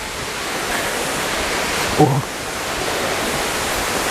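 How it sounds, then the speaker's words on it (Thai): A waterfall and stream at Tad Fane or Tad Yuang near Pakse in southern Laos. Water pours down in a steady, broad rushing roar throughout, and a voice makes a brief exclamation partway through. "น้ำก็ไหลลงมาครับ ถ้าเราเดินขึ้นไปด้านบนก็จะเป็นลำธารเป็นน้ำตก"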